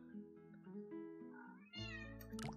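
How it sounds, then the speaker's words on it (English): Pet house cat meowing indoors, several drawn-out rising and falling meows in close succession, near and clear, ending with a louder burst, no talking. "I have a cat in here now."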